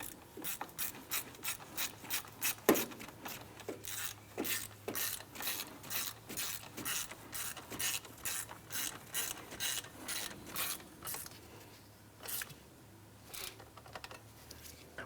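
Ratchet clicking steadily in quick bursts while snugging down a bolt on a 2001-2005 Honda Civic engine during crankshaft seal work, the strokes close and crisp with brief pauses between runs.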